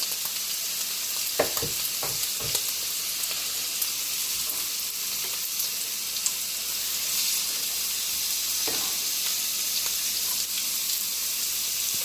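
Onion frying in a pan with a steady, continuous sizzle and hiss, close and fairly loud, broken by a few faint scrapes and taps, with no talking.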